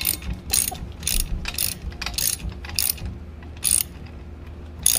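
A wrench ratchets in short bursts while tightening bolts on a Mosmatic surface cleaner, about eight quick clicking runs spaced unevenly over a quiet background, close and fairly soft, with no speech.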